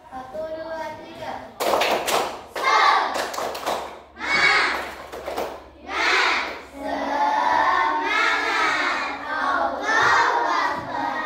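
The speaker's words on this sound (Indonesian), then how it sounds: "Kita tepuk semangat dulu ya" A group of children doing a rhythmic spirit clap, sharp bursts of clapping mixed with loud chanting voices and shouts, close and energetic, with an adult voice at the start.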